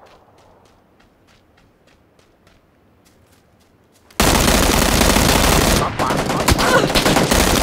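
Squad shooter game firefight: after quiet footsteps and shuffling with faint shots, sudden loud sustained automatic gunfire erupts close by, dense and continuous, with brief voices shouting in between.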